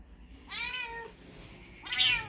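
A mother cat meows twice, near and clear, lying with her three newborn kittens; two drawn-out cries separated by a short pause, with no talking over them.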